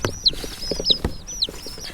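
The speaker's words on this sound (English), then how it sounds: "We bought 15 chickies." Young chicks from a batch of about fifteen peep and cluck nearby, with three sharp high chirps spaced evenly among soft, scattered clucks.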